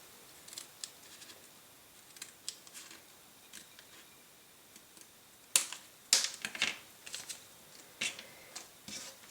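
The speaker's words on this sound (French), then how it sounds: "nous allons venir découper à l'aide de nos ciseaux environ 2 à 3 cm." Scissors snip paper while a gift pouch is cut for scrapbooking, a few sharp crisp cuts clustered together, close and fairly quiet, with light handling rustle between them.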